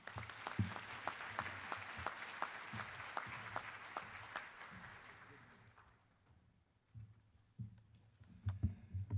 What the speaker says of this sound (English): One more round of applause congratulating faculty, staff, and students.